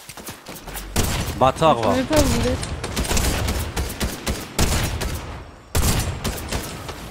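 Bursts of rapid gunfire from a Fortnite match crackle loudly and nearly continuously, with dense volleys and thumps, while someone talks in French over the shooting.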